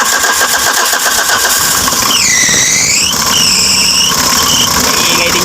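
Mitsubishi L300 FB van engine with the timing belt cover removed cranks and starts, then runs with a steady broadband drone, overlaid by a loud whining, sweeping squeal from about two to four and a half seconds.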